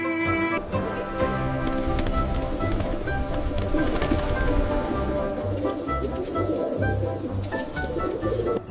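Pigeons cooing in soft, repeated throaty calls over a dense, steady background with a tonal hum.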